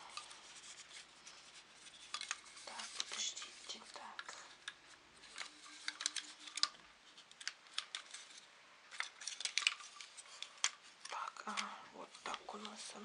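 Plastic and metal clicks, rubs and snaps of a small 60 cm photo and video tripod with a built-in level and handle as its legs are unfolded, irregular close handling noises with brief speech between them.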